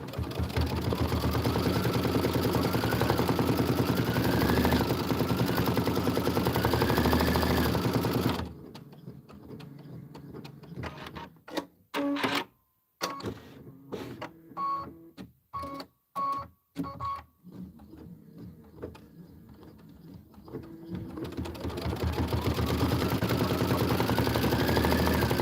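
A sewing or embroidery machine stitches a path detail and decorative outline on a Kimberbell home-sewn tile, running in a loud mechanical drone with stretches of stop-and-start pauses and rapid stitching bursts.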